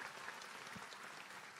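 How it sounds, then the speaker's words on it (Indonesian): A church congregation claps throughout in a continuous, even wash of applause, heard faint and distant at low level. "Berikan tepuk tangan untuk Tuhan Yesus."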